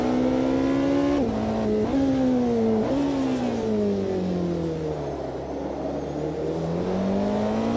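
A Porsche 918 hypercar drives down an empty California highway in the racing game AMS2, its engine a loud, continuous drone that dips slightly at a few gear shifts before climbing again as it pulls steadily.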